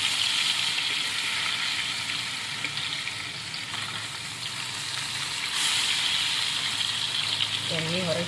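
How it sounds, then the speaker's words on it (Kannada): Fish fries in hot oil on a tawa in a village setting, a loud continuous sizzle with spattering bursts, and a voice speaks near the end. "ಎಣ್ಣೆ ಹೊರಗೆ ಸಿಡಿಯಾಗ್ತದೆ."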